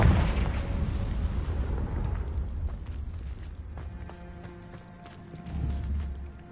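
A Confringo fire spell blasting in Hogwarts Legacy: a loud, close, rumbling explosion that rolls and decays over several seconds, followed by a fainter second swell of boom.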